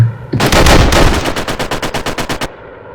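Gunfire in the WWII Online video game at an in-game memorial: a loud, dense opening volley followed by a rapid, evenly spaced string of about a dozen close shots, then a sudden stop.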